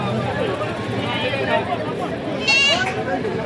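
A goat bleats briefly at a goat and buck livestock market in Sangola, one short wavering call rising out of a steady murmur of crowd chatter and nearby voices.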